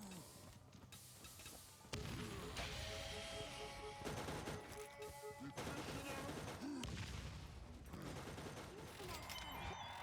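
Grenade-boost explosion in the video game Borderlands, a loud blast that jumps up sharply and gives way to a dense, continuous wash of game gunfire, crashes and booms layered over busy background sound.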